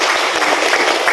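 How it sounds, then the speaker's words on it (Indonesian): A congregation applauds during a church worship service, a brief, steady burst of clapping that fills the whole clip at close range. "minta tepuk tangannya lagi untuk kemuliaan Tuhan"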